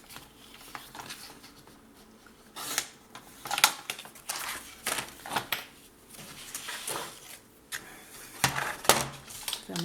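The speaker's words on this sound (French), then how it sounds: "Je vais couper ici" Scissors or a blade cutting through scrapbooking paper on a tabletop, a series of close, crisp snips and scrapes in irregular bursts with soft handling rustles between them.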